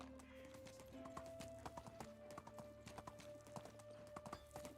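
Horse hooves clip-clopping in the medieval life-sim game Medieval Dynasty, a steady, moderately close rhythm of hollow knocks running the whole time over a constant ambient hum, with no talking.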